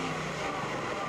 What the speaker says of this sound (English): You can see this is the car of an older vintage, but it really moves.